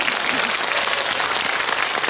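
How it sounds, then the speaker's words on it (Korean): Steady, dense applause from a crowd, continuous and fairly loud throughout. "많은 배우들께도 박수를 보내고 싶고요"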